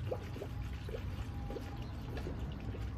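Coolant poured into a car radiator during a coolant flush, a steady continuous liquid pour with light trickling, close and fairly quiet, no talk.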